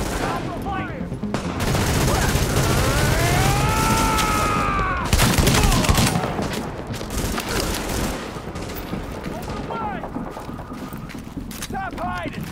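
Gunfire during an ambush in The Division video game: rapid rattling automatic bursts and shots mixed with shouting voices and game effects, loud and busy throughout.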